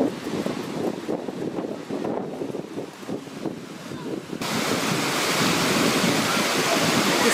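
Sea waves wash onto a sandy beach on a late-summer day, a steady broadband roar that swells louder partway through, with wind buffeting the microphone.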